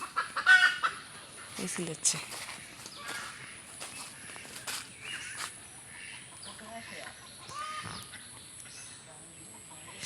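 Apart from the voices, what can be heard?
chickens clucking up in a tree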